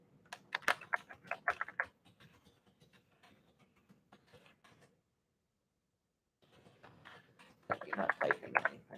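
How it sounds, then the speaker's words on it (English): Someone taps at a computer keyboard in quick, faint bursts of clicks near the start and again near the end, with a silent gap between them. "It would help if I actually type"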